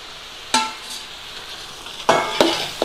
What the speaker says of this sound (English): we're going in with our mince. So get our minced lamb in there.